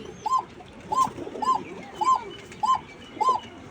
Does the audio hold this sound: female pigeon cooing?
yes